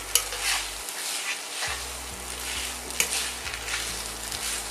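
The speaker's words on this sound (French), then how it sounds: "vous leur donnez un petit coup de chaud, comme ça encore, pour mélanger le tout" Fettuccine in a smoked salmon and caper sauce tossed and heated in a pan, a close, steady sizzle with bursts of stirring and a few light clanks, alongside a low steady hum.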